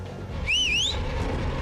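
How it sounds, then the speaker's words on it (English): A sharp, rising-and-falling whistle blast rings out clearly for about half a second over a steady low background hum, loud and close. "Oh, the second whistle."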